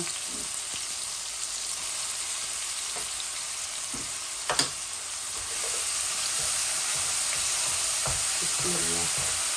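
Onion and garlic sizzling steadily in a pan with shrimp, a dense continuous frying hiss with scattered clicks of a utensil and a slight swell as more onion goes in.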